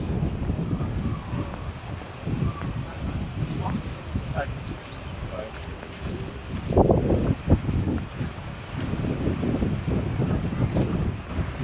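Steady wind blowing at a beach on Hvar island, Croatia, a constant broadband rush with louder gusts buffeting the microphone, and faint insect-like chirps in the background.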